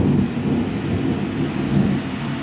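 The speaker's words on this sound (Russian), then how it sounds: "Сегодня на улицу не выйти. Сегодня гроза." A thunderstorm rolls on with a continuous low rumble of thunder and the hiss of steady fresh rain, dense and unbroken throughout, with no voices.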